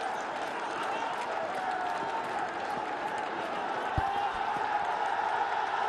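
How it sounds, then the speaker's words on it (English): At a Bangladesh cricket match, a big stadium crowd roars after a wicket, a steady, dense wash of cheering and noise that holds at an even loudness throughout. "The crowd's gone wild for Bangladesh."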